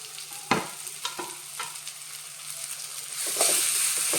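Sprouted moth beans stirred into a frying masala paste in a pan: a few distinct scraping stir strokes at spaced intervals over a steady sizzle, close and fairly loud, with no talking.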